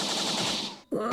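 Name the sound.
Luffy's King Kong Gun attack, sounds like Maverick gun, video game One Piece Bounty Rush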